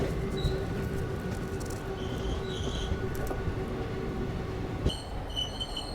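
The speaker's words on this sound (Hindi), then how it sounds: "यहाँ देखिए यार्ड में शंटिंग करता हुआ शंटर लोकोमोटिव" Diesel shunter locomotive working in a railway yard, a low steady engine rumble with faint squeals and metallic clanks, somewhat distant and fairly quiet.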